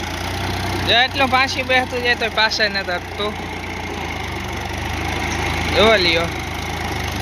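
A tractor engine idles on a farm with a low, steady mechanical rumble underneath while someone talks over it in short bursts, with a pause before he speaks again.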